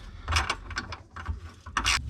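A ratchet tightens a nut on a Suzuki Samurai shock absorber, giving several quick bursts of close clicking with short pauses between strokes.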